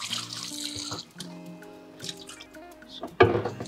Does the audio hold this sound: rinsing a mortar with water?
yes